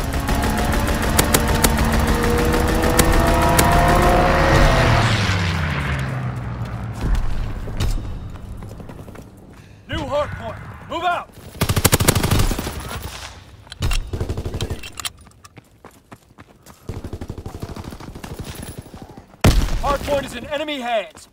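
Call of Duty WWII Valkyrie hardpoint match: a fighter aircraft strafing run roars in with a sustained rush, followed by scattered bursts of gunfire and mechanical clatter, with an announcer voice speaking between the shots.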